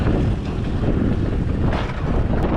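Strong wind on a seaside cliff face in Los Cabos, blowing sand, roars as a steady, loud, close buffeting rumble against the microphone with no talking.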